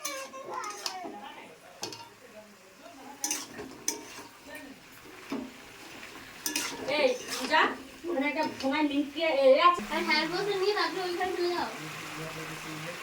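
Ginger-garlic paste and chili paste stirred in a cooking pot in a home kitchen: scattered clinks and scrapes of a spoon against the metal, soft frying underneath, with several people talking throughout, including a child.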